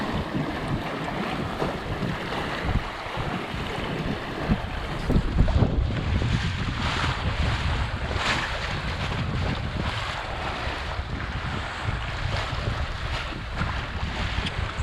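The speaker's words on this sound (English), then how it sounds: "I'm kind of skipping over some of the waves" A Sunfish sailboat skips over waves on Lake Superior around Isle Royale, heard as a steady roar of wind buffeting the microphone mixed with water rushing and slapping against the hull throughout.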